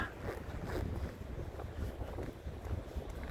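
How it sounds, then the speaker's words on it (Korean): Water pouring over a river weir on a rural riverside path, a steady broadband rush heard at a distance, roughened by wind buffeting the microphone and continuing without a break. "지금 보에서 떨어지는 물소리가 크게 들리고 있습니다"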